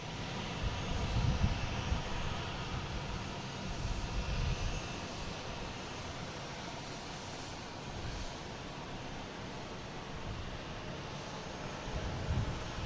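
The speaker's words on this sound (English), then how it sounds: "767 coming in from Dublin" A Boeing 767 airliner inbound from Dublin lands at Boston Logan, its engines a steady, fairly distant broadband roar that swells slightly at moments across the whole stretch, with no voices.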